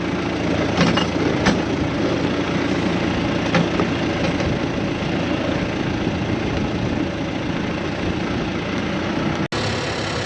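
A farm truck engine runs steadily inside a machine shed, a continuous low rumble at close range with a few faint knocks near the start and a brief click near the end, no talking.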